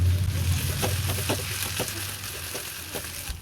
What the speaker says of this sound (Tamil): இதையும் சேர்த்து நல்லா வதக்கி விட்டுருவோம்